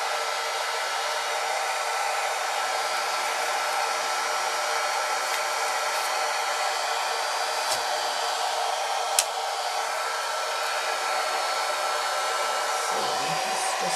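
A hair dryer blows continuously, a steady airy whir with a faint high whine, close by and unchanging, with a couple of tiny clicks.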